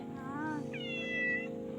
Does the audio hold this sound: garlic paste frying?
no